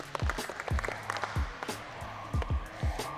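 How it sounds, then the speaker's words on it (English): A group of boys at an end-of-season club awards night claps for a teammate who won most improved. Short bursts of close clapping come in an uneven rhythm over about three seconds. "Give him a clap, boys."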